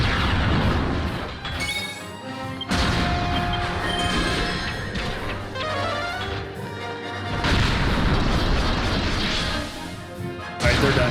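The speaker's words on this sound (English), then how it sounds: "Oh, he's got the Mega Cannon." Mega Cannon artillery fire from the Dragon Quest X battle, a series of loud, heavy crashing blasts and booms that follow one another closely, with little talk over them.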